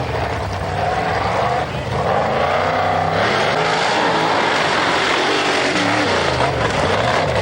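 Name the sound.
rally car engine driving through water puddles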